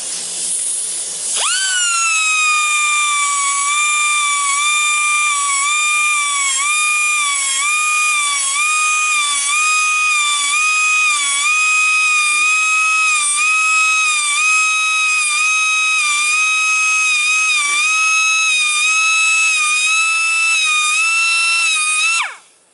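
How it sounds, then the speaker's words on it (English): A die grinder sharpens the back of a Woodmizer LT15 sawmill band blade, a loud steady high-pitched whine running nearly continuously after spinning up. "my thumb is on the die grinder, and I'm just holding it at basically the same angle running across there."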